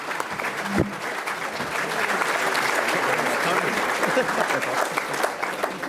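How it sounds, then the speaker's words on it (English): An audience applauds the panelists at an immigration policy forum: a full round of dense, steady clapping that holds throughout, with a brief voice at the start. "Let's give everybody a round of applause"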